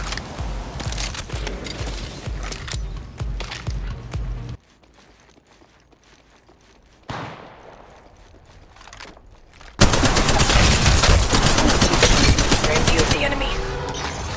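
Rapid automatic gunfire bursts in the mobile shooter game Apex Legends Mobile, loud and dense, dropping to a quieter stretch before an even heavier volley erupts, with in-game voice lines mixed in.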